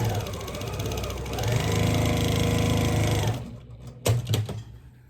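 Sewing machine stitching a quilt square made from fabric mask scraps, a steady close mechanical whir that speeds up, runs for a few seconds and then stops, followed by a few small clicks.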